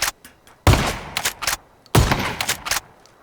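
Shotgun blasts in a video game: two loud, heavy booms a little over a second apart, each followed by a short rattle of fainter shots and echoes, with no talk over them.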